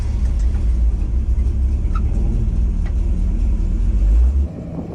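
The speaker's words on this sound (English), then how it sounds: "So it does roast tires if you roll backwards fast enough." A ramp truck rolling backwards with its tires spinning in a burnout attempt, giving a loud, close, steady low engine rumble that holds for about four seconds and then drops off abruptly, with no talking.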